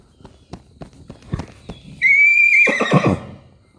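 A young filly gives a loud, clear whinny after a run of sharp hoof knocks on the ground, the neigh rising high then breaking into rough snorting pulses before fading.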